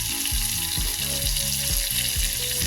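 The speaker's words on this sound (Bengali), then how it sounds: "আমি সমস্ত মশলাটা ভালো করে ভেজে নেব" Ground coriander, chili and turmeric powders fry in a pan for ghugni, giving a steady close sizzle with rhythmic stirring scrapes repeating about once a second.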